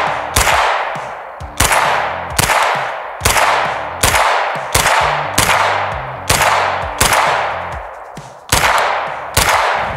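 Repeated shots from a 9mm pistol-caliber carbine ring off a steel target, about a dozen sharp cracks in a steady, evenly spaced rhythm, each with a metallic ping and short decay, loud and close with no talking.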